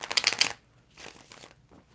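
A deck of tarot cards is shuffled up close: a quick riffling burst, then softer, scattered shuffling rustles, with no voices.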